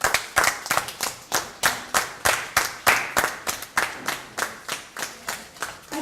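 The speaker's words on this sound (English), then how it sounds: "I think we can do more with the clapping." Audience at a Nigerian pharmacy press conference on drug and substance abuse claps in a steady, fairly rhythmic series of sharp hand claps, moderately close, with no voices over it.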